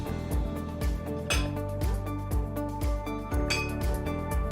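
Heat-resistant glass mugs being stacked, with several sharp ringing clinks and knocks of glass on glass in an uneven rhythm, close and clear over faint background music.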